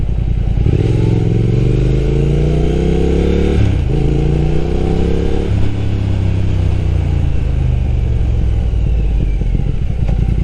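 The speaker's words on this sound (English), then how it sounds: "Arrow did put in some good engineering for this bassy, beefy exhaust note." A motorcycle with Arrow Nichrom Pro-Racing silencers and a deep, bassy exhaust revs up twice in quick succession, then settles into a steady, throaty idle rumble.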